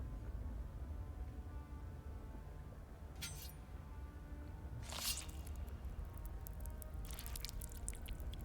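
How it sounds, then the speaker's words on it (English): Wet squishing, splashing bursts as blood is poured onto a deathstill in Dune Awakening, two or three brief liquid gushes over a low steady hum. "Pour blood on the death still."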